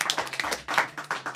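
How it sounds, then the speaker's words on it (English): A live studio audience claps for a game show contestant, a dense burst of hand claps that swells and ebbs across a short stretch with no voices over it. "Right, round of applause for Dan."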